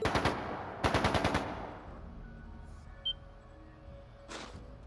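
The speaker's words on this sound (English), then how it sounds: "That didn't sound good. That sounded like gunfire." Two quick bursts of rapid gunfire ring out in The Legend of Heroes: Trails of Cold Steel II, then quieter background sounds and a faint distant shot or two.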